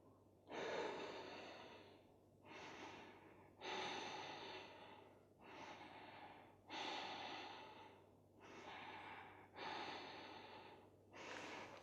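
Slow, deep Ujjayi breaths during a vinyasa yoga session, eight long hissing inhales and exhales in steady rhythm, close and quiet with no talking.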